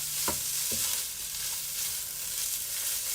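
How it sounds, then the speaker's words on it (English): Teriyaki salmon noodles stirred in a frying pan, a steady close sizzle with a couple of sharp utensil knocks early on. "I'm just going to give that a bit of a mix in."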